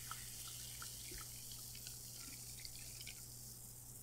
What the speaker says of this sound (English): You can hear the bubbles.